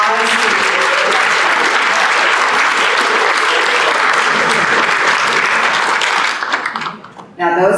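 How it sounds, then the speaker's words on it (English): Audience at a Rotary club meeting applauding new members, a dense, loud round of clapping that holds for about six seconds, then fades out quickly near the end. "Give a round of applause."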